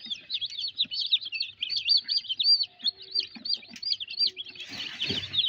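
Newly hatched chicks in a small egg incubator chirp in rapid, continuous high peeps, close and fairly loud, with a brief rustle near the end and no talking.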